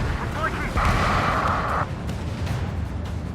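A missile explodes in the Ace Combat 7 air-combat game, a dense roaring blast with a sustained rumbling tail over continuous noise, and radio voices talk over it.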